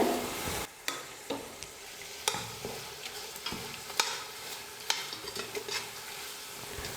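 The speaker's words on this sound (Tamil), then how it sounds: "தக்காளி வந்து நல்லா வெந்து இந்த மாதிரி மசிஞ்சு வர வரைக்கும் நல்லா வதக்கணும்." Tomatoes with ginger-garlic paste sautéed for mutton biryani, a quiet sizzle beneath sharp, irregular spatula clicks and scrapes against the pan, close by.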